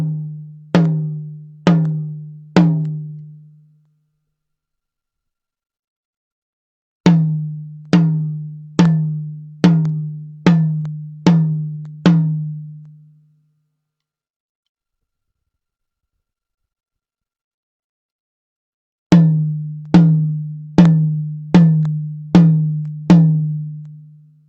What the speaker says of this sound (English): Notice how the sound changes as I move the mic in relation to the drum.